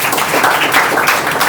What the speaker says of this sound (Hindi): पहले सबके लिए तालियाँ।